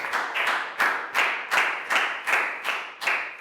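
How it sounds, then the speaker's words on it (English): Rhythmic bursts of clapping, about nine evenly spaced pulses in a few seconds, like a small group of schoolchildren clapping together in time during a primary-school English lesson. "Big round of applause for Pak Bung, guys."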